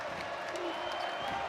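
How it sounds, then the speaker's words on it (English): The Butler home crowd roars and applauds at Hinkle Fieldhouse during an NIT first-round men's college basketball game against Minnesota. The crowd noise stays steady and fairly distant, with a commentator talking over it. "this Butler crowd is coming alive here at Hinkle Fieldhouse"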